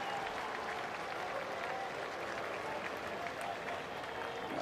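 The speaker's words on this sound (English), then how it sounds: "Some of the Yankee fans in attendance are giving Anthony Volpe a bit of a forgiving applause here" Yankee fans at a Yankees–Orioles baseball game applaud Anthony Volpe with steady, moderate clapping from a distant stadium crowd that lasts throughout, a crowd murmur beneath it.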